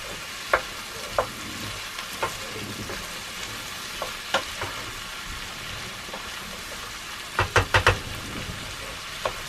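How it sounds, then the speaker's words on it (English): Turnip stir-frying in a pan for corned beef hash stew gives a steady close sizzle, with scattered scrapes of a utensil and a quick cluster of knocks near the end. "we'll just stir fry that for 1 or 2 minutes"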